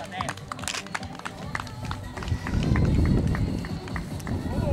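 A marathon runner passes by at a road running event, with footsteps rising from faint to a steady, louder patter as the runner nears, while an announcer talks over a public address system.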